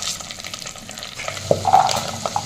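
Garlic cloves fry in sesame oil for a kuzhambu, giving a close, steady crackling sizzle with a few sharper pops and light stirring clinks.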